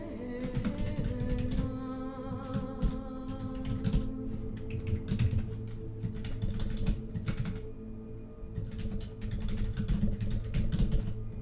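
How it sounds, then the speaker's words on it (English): Steady clicking of computer keyboard keys while writing C++ code, close and continuous with quick irregular bursts and brief pauses, over a faint constant hum. "Because I was typing something."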